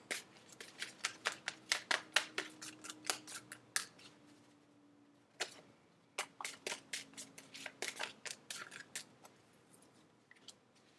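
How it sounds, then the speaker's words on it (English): Crisp, rapid riffle shuffles of a tarot card deck, repeated bursts of flicking cards close to the microphone, with short pauses between rounds. "3 more shuffles."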